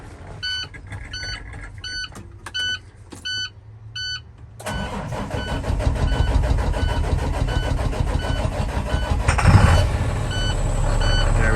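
A 2011 International WorkStar 7400 truck cold starts after sitting. Intermittent reversing-style beeps come first, then the engine cranks and catches into a loud, steady, rumbling idle with a brief surge.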